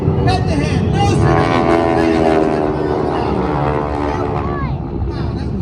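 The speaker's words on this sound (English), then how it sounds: "4 600 horsepower aircraft from the left, 2 more from the right, head to head, nose to" Airshow aircraft of about 600 horsepower, four from the left and two from the right, pass head to head at a Blue Angels homecoming show in Pensacola, a loud sustained roar that swells and slowly fades.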